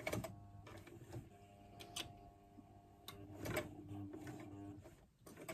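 A sewing machine stitching exterior panels with a short stitch length, running in steady mechanical bursts with rhythmic ticking and clacking, fairly close and moderately loud, pausing briefly between runs.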